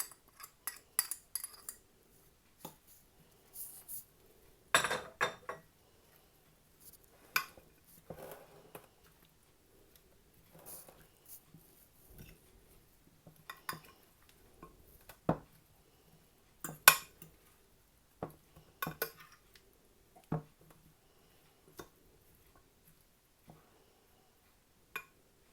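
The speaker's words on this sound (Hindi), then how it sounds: "अब इसको सैलड के ऊपर डाल देंगे और इसको अच्छी तरह सैलड में मिक्स कर लेंगे।" Chicken and paneer salad being tossed with dressing in a bowl, giving quiet, scattered clinks and scrapes of utensils against the dish with pauses between.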